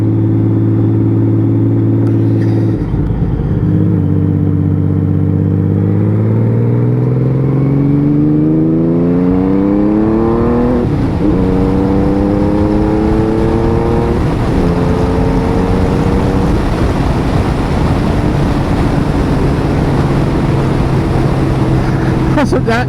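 A Honda Valkyrie 1500 motorcycle with a freshly rebuilt engine, loud and close, pulling through several gears as the pitch climbs and drops with each shift, speeding up on the road.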